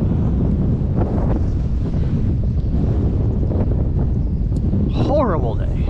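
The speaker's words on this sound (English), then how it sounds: "Windy as all get out" Strong wind buffets the microphone in a constant loud rumble while bass fishing, with a brief high whirring sound, likely a reel, near the end.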